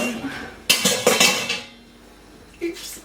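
In a home kitchen, a metal pan is pulled out and set down with a cluster of clanks and rattles, followed by a quieter knock, with a person speaking briefly.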